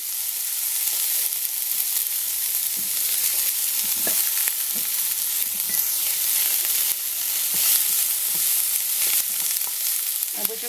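Chopped onions and leeks fry in a pan, giving off a loud, continuous sizzle with soft scrapes and stirring knocks throughout and no speech.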